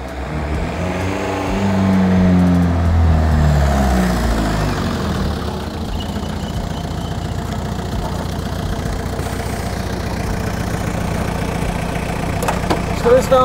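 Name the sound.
car engine idling and revving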